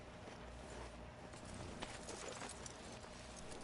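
Horse hooves clip-clop steadily in Red Dead Redemption 2 as a horse is ridden along, a faint, continuous rhythmic patter set within a dense, hissy game soundscape.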